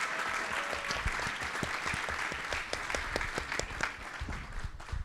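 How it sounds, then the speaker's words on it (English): An audience applauds recipients at the 2024 Harvard Kennedy School Alumni Association annual meeting, a steady wash of many hands clapping at moderate distance, continuous through the clip with no speech. "one more round of applause for our illustrious recipients as Corinna comes up"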